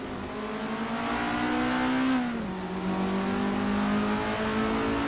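Race car engine drone in a racing video game, a steady high whine holding pitch, briefly rising then dipping as a gear shifts, close and continuous.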